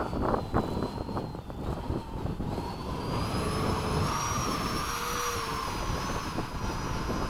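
Two 80mm electric ducted-fan RC model jets, a Freewing MiG-21 and an E-flite F-4, flying at a field after sunset, giving a steady whooshing turbine whine that rises and falls as they pass overhead, with no talk.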